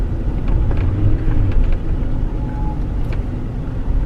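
A limousine on a test drive rumbles steadily, with a close, continuous engine and road drone and no clear breaks.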